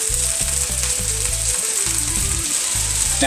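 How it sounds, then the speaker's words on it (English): Meat sautéing in a pan over a fire, a steady bright sizzle running throughout alongside a rhythmic low mechanical thumping. "I'm just going to saute this up here, and you're going to see this all come together"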